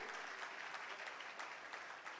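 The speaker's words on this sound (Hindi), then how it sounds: "एक बार जोरदार तालियां भाई।" A crowd applauds at a ceremony in Delhi launching new tipper garbage vehicles, sustained even clapping heard faintly and at a distance throughout.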